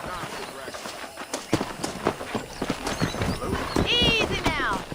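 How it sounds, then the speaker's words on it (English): Horses in the Red Dead Redemption video game, heard in a wrangling scene with hooves clopping and a high neigh near the end, under steady talk and ambient game noise. "Let's see if we can't wrangle some horses."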